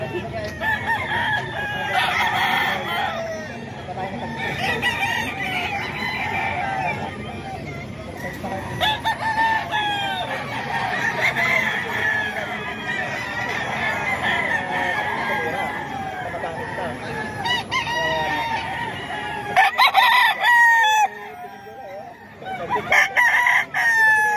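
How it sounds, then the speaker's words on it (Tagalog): Kuya Salim's rooster in Tondo crows repeatedly, loud and near, with clucking between calls, while people talk over it throughout. "manok ni Kuya Salim mga kaidol"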